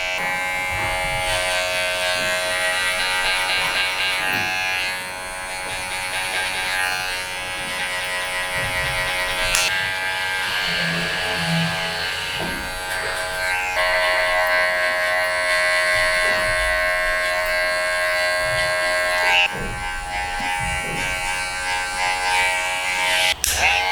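Electric hair clippers with a guard attached buzz steadily through a haircut on thinning hair, a close continuous hum with slight shifts in pitch as the blade moves through the hair.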